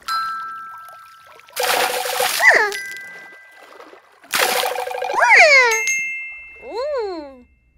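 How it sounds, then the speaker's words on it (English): Water sloshes and splashes in a bathtub, two loud bursts of splashing each followed by a bright chime-like tone, close and upfront, with a voice heard among the sounds. "A bath is when you sit in a tub of water and wash yourself clean."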